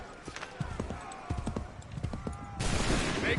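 Musket gunfire in Assassin's Creed 3 opens as a loud, dense volley of crackling shots near the end, preceded by horse hooves clip-clopping and battlefield noise while voices shout in the background.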